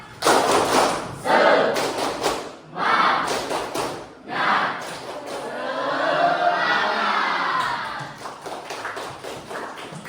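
A classroom of pupils claps in rhythmic bursts for the tepuk semangat spirit clap, sharp groups of claps broken by short pauses, then excited shouting voices in the middle before a few more claps.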